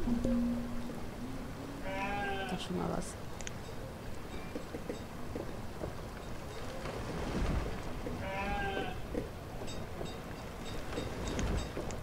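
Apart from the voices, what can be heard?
sheep bleating in video game Banished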